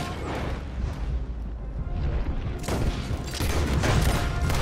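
Dense, continuous gunfire from a Red Dead Redemption 2 city shootout with police, a loud rolling fusillade of overlapping shots that swells in intensity toward the end, with no talk over it.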